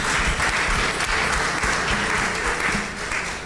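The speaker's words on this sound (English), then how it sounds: "Please give her a round of applause" An audience at a climate crisis talk breaks into sustained applause, a dense, steady wash of clapping from many hands that holds loud for several seconds before easing slightly at the end.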